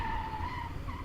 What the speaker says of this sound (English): he may have forgot the extra weight on the bike, leading to this little skid here